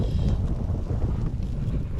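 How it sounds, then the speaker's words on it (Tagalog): Strong wind buffets the microphone in heavy, continuous low rumbling gusts, loud and close throughout. "malakas yung hangin"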